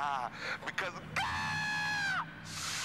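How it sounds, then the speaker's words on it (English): A man screams a long, loud, sustained cry of "God" in a tense scene as police arrive, preceded by brief speech and followed by more shouting. "Why he got to scream God like that?"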